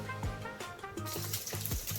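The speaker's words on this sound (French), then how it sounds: "là on va verser de l'huile d'olive" Olive oil poured into a hot non-stick frying pan, a soft liquid gurgle and trickle with a gentle sizzling hiss, close and fairly quiet.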